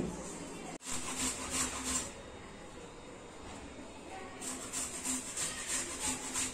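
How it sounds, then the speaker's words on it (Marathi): Two onions being grated by hand while preparing kombdi vade flour dough, a steady scraping rasp in rhythmic strokes, close and fairly loud, pausing briefly in the middle before resuming. "त्यासाठी मी हे 2 कांदे किसून घेणार आहे अगोदर"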